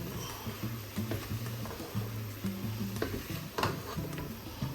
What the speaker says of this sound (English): And we're gonna stir it.